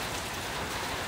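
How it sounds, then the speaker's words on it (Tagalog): Steady rain falls at a campsite, a dense, even hiss of drops close by with no pauses. "Inabutan na ako ng ulan."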